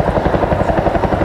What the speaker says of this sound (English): an opportunity for us to demonstrate the unique ability of the helicopter to fly sideways